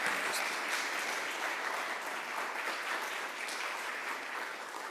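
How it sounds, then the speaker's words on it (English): Steady audience applause for a speaker, a continuous wash of many hands clapping at moderate distance, fairly quiet and even from start to finish. "let's give him a second round of applause"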